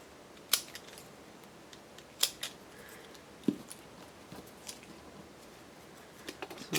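Scissors snip the tips of craft material in a few sharp, separate cuts spaced irregularly, close and fairly quiet in an otherwise still room.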